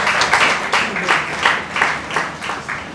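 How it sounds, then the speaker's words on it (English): Audience members at a Rotary Club scholarship awards event applaud, a moderate, continuous wash of clapping with slight swells, no voices over it. "A round of applause, please."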